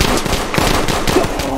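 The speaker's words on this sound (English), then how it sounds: "He just shooting anybody." Rapid, loud, continuous bursts of automatic gunfire in a Roblox street game, close and sustained with no speech over it.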